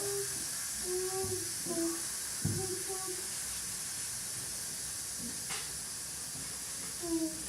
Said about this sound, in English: you have to wait till all the steam goes out